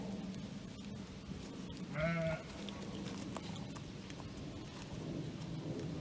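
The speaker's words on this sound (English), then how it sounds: "We got 3 new goats." A single goat bleat rings out briefly amid a soft, steady background hiss, with no one speaking.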